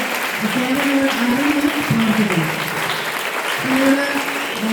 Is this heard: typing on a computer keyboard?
no